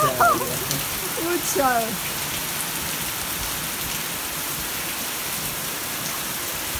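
A heavy rain downpour roars as dense, even hiss throughout. A few short spoken phrases are heard over it at the start.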